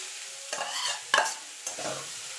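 Cauliflower florets hitting a hot oiled pan over high heat and being stirred, with a few distinct scraping stir strokes over a steady frying sizzle, close and alone without talk.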